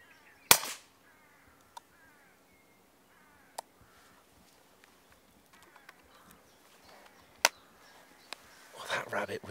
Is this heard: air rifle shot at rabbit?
yes